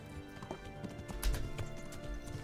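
Horse hooves clip-clop in Kingdom Come: Deliverance, a steady run of close hoof strikes with a few heavier thuds, and no voices over them.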